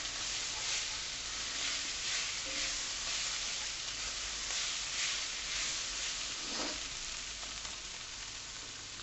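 Tomato puree sizzles as it cooks out in a pan of chilli, a steady close frying hiss with a soft stir or scrape near the end.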